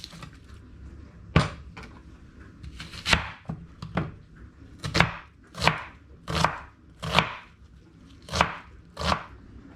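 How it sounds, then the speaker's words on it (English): A knife chops on a cutting board in about nine sharp, separate strokes, spaced roughly evenly, close and clear with no talking. "So I'm just going to begin by chopping my onion"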